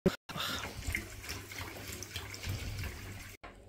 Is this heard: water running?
yes